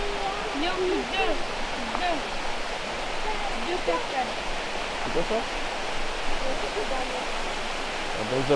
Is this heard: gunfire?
no